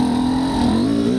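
A motorcycle fitted with a SmartCarb SC2 carburetor pulls hard in first gear without the clutch, its engine note loud and close, rising steadily in pitch with a brief dip before climbing again.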